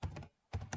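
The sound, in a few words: typing on a computer keyboard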